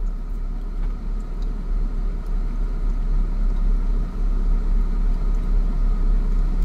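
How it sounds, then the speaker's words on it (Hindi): A car coasting in second gear with the clutch held fully down, giving a steady low road rumble and engine drone that runs unbroken throughout, fairly loud with no talk. "अभी देखना है कितने मीटर पे जाके गाड़ी रुकेगी"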